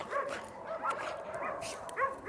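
A water dog, an energetic young male, makes short yelps and whimpering barks in a few bursts close to the listener.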